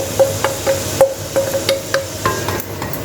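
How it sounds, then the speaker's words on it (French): Shallots are tipped into a frying pan where pork is being browned, giving soft scraping and light tapping of a utensil against the pan in a steady, irregular rhythm over a low sizzle. "Alors maintenant, nous allons remettre des échalotes."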